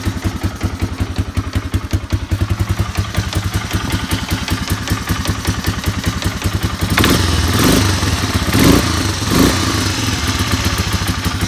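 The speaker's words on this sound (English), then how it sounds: "It's got a little top end noise at a low idle." A Honda Big Red 250 three-wheeler from a barn find idles low with a rapid, steady loping putter and clattering top-end tick, close and loud, rising briefly a couple of times.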